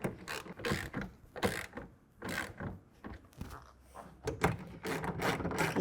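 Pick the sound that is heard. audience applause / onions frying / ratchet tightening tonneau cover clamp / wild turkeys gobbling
ratchet tightening tonneau cover clamp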